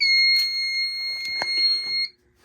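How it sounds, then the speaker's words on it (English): Fire alarm system test: a loud electronic alarm tone with strong steady pitches and short pulsing bursts, sounding for about two seconds and then cutting off abruptly to near silence. "System Test 18"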